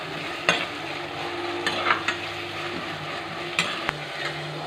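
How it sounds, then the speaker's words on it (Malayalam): Crushed onion stirred in a pan for Kerala-style nadan kera curry, a steady frying sizzle with a few sharp scrapes and clinks of the spoon against the pan throughout, close and moderately loud. "ഇനി നമുക്ക് ചതച്ച് വെച്ച ഉള്ളി ഇട്ട് കൊടുക്കാം. അത് നല്ലോണം ഇളക്കി കൊടുക്കാം."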